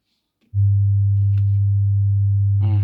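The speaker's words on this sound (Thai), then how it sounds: "เสียงโทนนะครับเทส" A steady low electronic test tone from a car diagnostic scanner testing the acoustic signal on a 2017 BMW X1 F48 switches on abruptly and holds evenly, with a voice starting right at the end.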